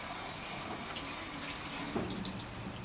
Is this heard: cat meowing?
no